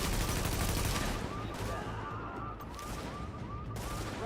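Sustained, rapid gunfire from the video game The Division crackles in a dense, continuous barrage with overlapping shots and a loud, rumbling low end throughout the short stretch.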